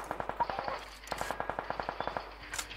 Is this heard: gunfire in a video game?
yes